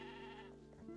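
A single wavering sheep bleat from the Discounty video game, close and steady for most of a second before trailing off, heard alone without any talking.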